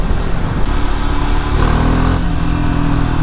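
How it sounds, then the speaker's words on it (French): Triumph Scrambler 400X single-cylinder engine pulling hard under acceleration, a loud, steady close-up drone with a rising tone partway through and no voices. "Vraiment un moteur assez volontaire."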